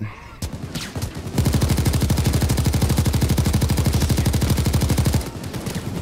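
Sustained automatic gunfire in Payday 2, a rapid, steady stream of loud shots lasting several seconds, with scattered lighter shots before and after the main burst.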